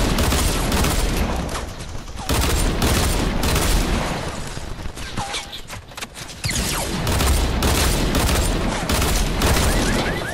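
Rapid video-game gunfire from a Fortnite Battle Royale squad match with dual pistols, dense bursts of shots packed almost continuously through the clip with a short lull in the middle, loud and close.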